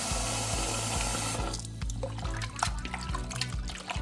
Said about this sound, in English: And then you wanna add some water to it.